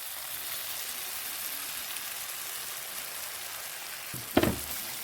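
Ground coriander paste stirred into softened tomatoes in a pan, giving a steady, soft broadband sizzle throughout with a brief louder scrape or clatter of a spoon near the end.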